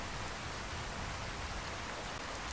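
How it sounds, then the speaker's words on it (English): Pouring rain in Skyrim SE, a dense, steady hiss of rainfall that stays even and unbroken throughout, fairly loud and with no voices. "It looks like there's a way up there in this pouring rain"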